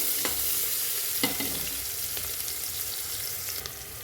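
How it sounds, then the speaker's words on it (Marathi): Onion slices fry in hot oil for masale bhat, a steady close sizzle broken by a few scraping knocks as a spatula stirs them around the pan. "हे छान एकदा हलवून घ्यायचे बघा तेलाव कांदा छान परतून घ्यायचा आहे आपला"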